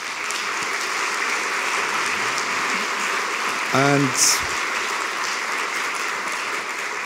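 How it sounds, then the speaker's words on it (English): An audience claps steadily at the close of a foreign-ministry event, a broad continuous wash of applause with a short tonal mechanical squeak or screech cutting through midway and a brief spoken word. "So I think that those people deserve a round of applause."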